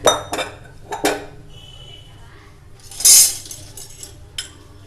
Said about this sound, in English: we have to transfer the entire mutton into the pressure cooker